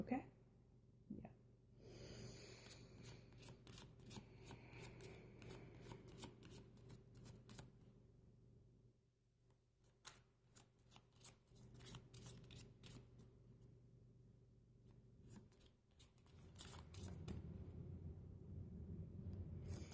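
Oracle cards shuffled by hand in a quiet room, a steady run of soft, close riffling flutters and light slaps repeating for many seconds, with faint breathing and low background hum.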